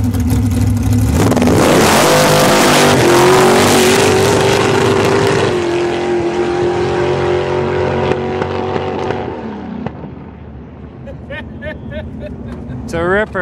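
A drag race car makes its run at a Friday night test and tune, roaring loud and near as it launches and accelerates, then fading away into the distance as voices talk over the crowd noise.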